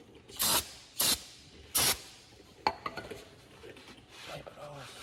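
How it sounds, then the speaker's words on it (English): Cleaner sprayed onto a chair in three short, close hissing bursts, followed by light knocks and clinks as it is handled and wiped. "Spray it down."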